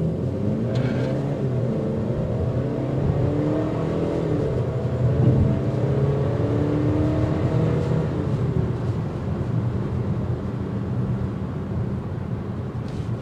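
A 2023 Volvo XC40 with auto start-stop switched off accelerates from a standstill in the middle of a road, heard from inside the cabin as a muted, steady low engine and road rumble.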